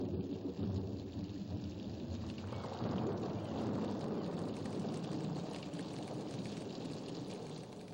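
Heavy rain pours steadily while low thunder rumbles and rolls through, building in the middle of the storm.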